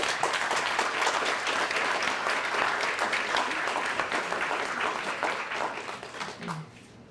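An indoor audience at a scholarship reception gives sustained applause for the recipients. The dense clapping holds steady and then thins out and fades near the end.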